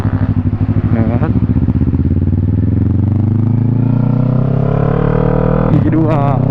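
Motorcycle engine accelerating hard through gears shifted without the clutch, loud and close, with rising engine pitch and a brief dip and jump at a quick clutchless upshift, while a voice talks over it.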